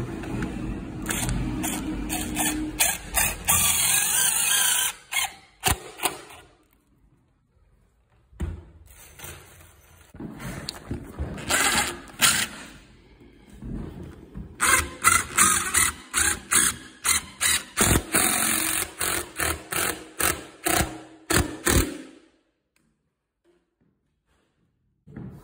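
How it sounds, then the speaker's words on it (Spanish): Screws being driven into a new window frame, bursts of whirring and ratcheting from a power screwdriver with clicks and thuds between them, two longer runs separated by a quiet pause. "Ahora lo vamos a atornillar."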